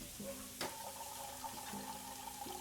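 Shower water running steadily in an indie video game, a faint hissing spray with soft tonal hums and a brief clunk near the start.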